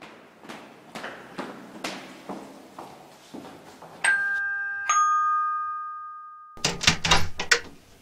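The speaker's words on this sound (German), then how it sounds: "klingeln an der Tür" A few soft knocks and footsteps, then a clear two-tone doorbell chime rings out and fades, followed by thumping and a door opening.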